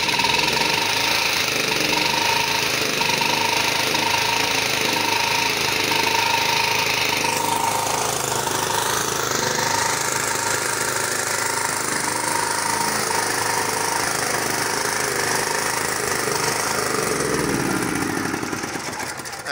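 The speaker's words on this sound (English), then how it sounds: "we're gonna put on this gen right now for you to hear the sound now of the generator" A 3.8/6.5 kVA petrol generator runs steadily after starting, a loud close mechanical buzz and rattle whose pitch shifts partway through as the engine speed changes.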